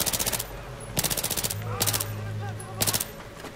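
Automatic gunfire in the video game Battlefield 3 comes in rapid bursts of close, loud shots, with short pauses between them and someone talking underneath.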